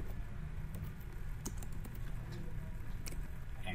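Computer keyboard typing during a Windows driver-update walkthrough, a steady run of soft keystrokes with a few sharper taps, close and fairly quiet, with no voice.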